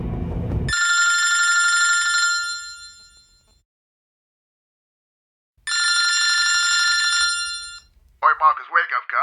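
Telephone ringing in an audiobook scene: two long electronic rings separated by a silent gap, loud and alone, followed by a brief burst of voice at the end.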